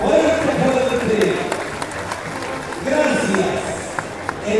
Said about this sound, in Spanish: ¡Eso aplausos público! ¡Fuerte!